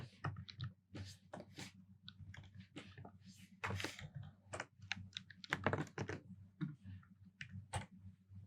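Rapid irregular clacking of keys on a computer keyboard while coding JavaScript, close and fairly loud, with bursts and short pauses and no voices.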